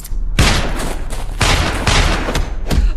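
Loud gunfire bursts in a dubbed action movie, several heavy blasts and volleys in quick succession over a continuous rumbling background.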